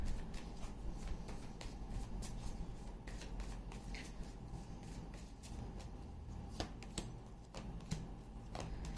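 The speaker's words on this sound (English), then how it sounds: "let me just pull out some advice cards for you for this week" Tarot cards shuffled and drawn from a deck, faint close riffling and flicking with soft sharp snaps scattered through, quiet and continuous.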